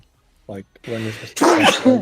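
A single sneeze bursts out close to the mic right after a brief spoken phrase, during a Final Fantasy XIV raid session, with voice chat continuing around it.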